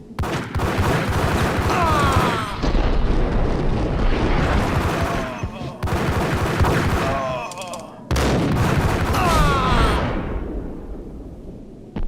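Video game gunfire rattles in loud, dense volleys of overlapping shots and blasts. Several sustained bursts are broken by brief pauses, with a quieter tail at the end.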